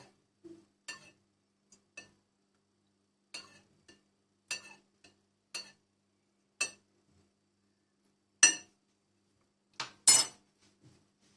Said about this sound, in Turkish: Bu pekmeze şu şekilde iki kaşık su koyacağım. Çünkü biraz gevşetmem lazım. Ve şu şekilde karıştıracağım pekmezimi.